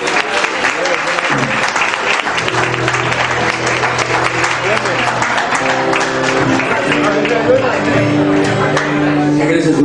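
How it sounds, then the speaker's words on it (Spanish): A crowd applauds loudly and continuously at a live concert in a music venue, with a voice and some music-like tones underneath the clapping. "Un aplauso para Andrés."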